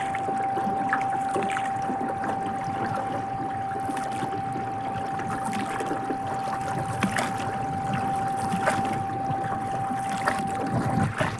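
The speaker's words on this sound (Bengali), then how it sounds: "ডিঙি নৌকাই পার হচ্ছি" Water lapping and splashing as a small dinghy is rowed across a river to a sandbar, a steady wash of paddle strokes with a faint constant tone running through.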